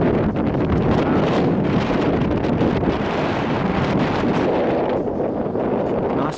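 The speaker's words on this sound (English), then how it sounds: "Nice and breezy up here." Strong wind buffeting a microphone on a breezy hilltop overlooking woodland and vineyards near Montalcino, a loud continuous roaring rush with a person speaking faintly underneath.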